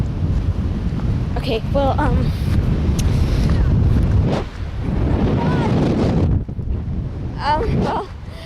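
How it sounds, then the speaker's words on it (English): Strong wind buffets the microphone on a beach in constant loud, roaring gusts, with surf noise in the background and a person talking over it briefly. "It's so windy."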